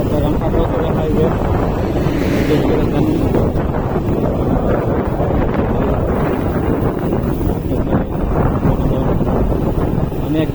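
Suzuki Gixxer motorcycle ridden slowly at about 25 km/h on the Chittagong–Khagrachari highway under cloudy skies, with steady heavy wind buffeting the microphone over a low engine drone, while a rider talks throughout.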